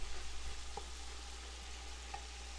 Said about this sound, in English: you're cooking that bacon and onions and celery up